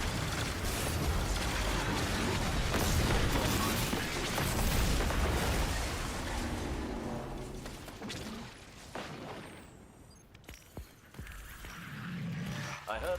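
Explosions thud and burst through a video game soundtrack, a dense cluster of booms early on that thins out later, with a voice talking over them.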